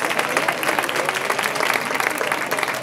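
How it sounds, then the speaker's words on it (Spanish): A crowd at the awards ceremony of a village pepper festival gives a sustained burst of steady clapping, moderately loud and even from start to finish. "vamos a recibir un fuerte aplauso, que ya se acercan al escenario"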